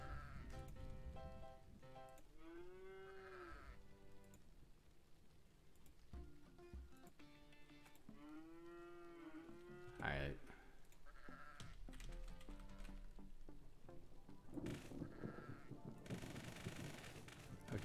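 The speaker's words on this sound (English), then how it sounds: "Okay, sheep." Sheep bleat in a video game, several wavering bleats spread across the scene alongside game sound effects, a sharp gunshot-like crack and a person talking over it.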